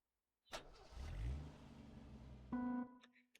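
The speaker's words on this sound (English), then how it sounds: "Racers, start your engines." Race cars in a video game fire up their engines, a sharp start followed by a rumbling rev that swells, then a bright tonal chime-like burst and fading tail, with no talking.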